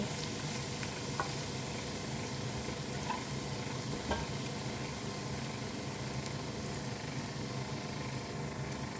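Garlic stir-frying in a hot wok, a steady, close sizzle broken by the scrape and clatter of stirring throughout, with no talking.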